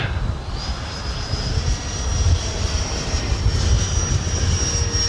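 A Freewing A-6 Intruder radio-controlled model jet flies overhead with a loud, steady, high-pitched whine that rises slightly and then holds over a rumbling wind-like roar, with no speech.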